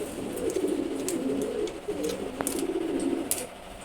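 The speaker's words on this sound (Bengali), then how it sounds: "এটা খুবই একটা হাইব্রিড ভালো ব্লাড লাইনের রেসার কবুতর।" Hybrid racing pigeons from a good bloodline coo close by, a throaty rolling coo repeated over and over with a few light clicks and rustles in the background.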